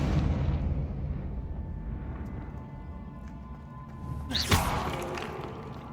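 Confringo fire spell in Hogwarts Legacy: a loud rumbling blast that fades over a few seconds, then a second sharp explosive crack with a bright burst near the end, close and forceful.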